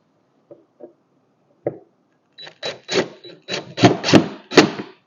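A DeWalt power drill tightens a fastener on the axle of a Peg Perego Gator ride-on toy during a repair, firing in a series of short, sharp whirring bursts that grow louder, after a few faint clicks.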